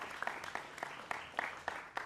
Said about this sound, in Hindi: जोरदार तालियों से इनका भी स्वागत कीजिए।